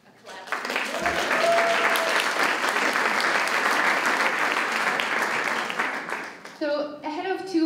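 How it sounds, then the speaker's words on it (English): Lecture audience at a university talk on the European migration crisis breaks into sustained, dense clapping that swells quickly and holds steady, then thins out as scattered claps fade and a voice starts speaking at the end. "can we do a clap?"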